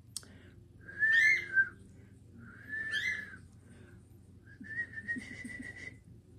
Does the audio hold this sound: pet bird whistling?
yes